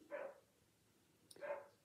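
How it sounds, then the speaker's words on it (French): Two large mastiff-type dogs barking indoors, two separate woofs about a second apart, faint and somewhat distant with no talk. "Je suis désolée pour les chiens, si vous les entendez, c'est mes deux gros molosses qui jappent"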